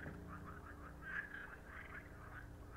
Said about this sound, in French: Salut, Grégoire le crapaud